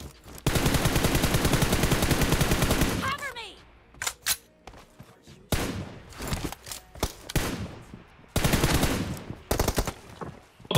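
Sustained automatic gunfire in a team deathmatch video game, a long rattling burst followed by shorter bursts and scattered shots, loud and close, with people talking between volleys.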